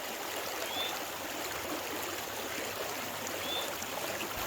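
Water rushes steadily through a river sluice box used for gold prospecting outdoors, a constant, fairly faint wash of flow with no talking.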